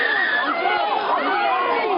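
A dense protest crowd being pushed back by police and sheriff's deputies, a steady wash of many overlapping voices shouting and chattering throughout.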